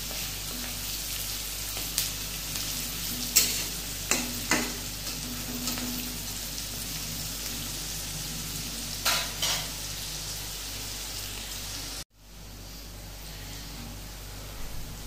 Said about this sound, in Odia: ପିଆଜକୁ ଆମେ ରେଡ୍ ହେଲା ଯାଇକି ଭାଜିବା